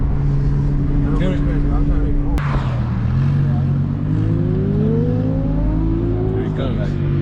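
A 900-plus horsepower twin-turbo Audi R8 racing a Honda CBR 1000 motorcycle: loud engines rev and drone steadily, a sharp transient cuts through, then a rising pitch sweeps upward as the vehicles accelerate, with people talking over it.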